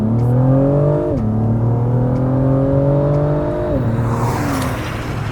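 A 2022 Acura TLX Type S twin-turbo V6 roars under full-throttle acceleration without launch control, its pitch climbing steadily, dropping briefly at each gear change, then rising again. Loud and close, no voices.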